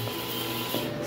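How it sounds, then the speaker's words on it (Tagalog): Sticker printer running steadily, a continuous mechanical hum and whir at an even level with no pauses, close by and alone. "Ngayon guys, sticker printing pa rin tayo."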